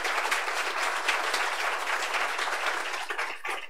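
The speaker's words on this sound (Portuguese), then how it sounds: "depois das palmas" An audience at a Brazilian science academy event applauds a political speech: a full, sustained wall of clapping from many hands, steady and fairly loud, thinning slightly toward the end.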